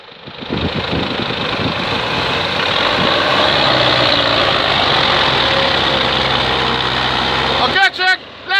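A tractor engine, one of an old and a new tractor, fires up and settles into a loud, steady diesel idle close by, running for several seconds before cutting off with a few sputters.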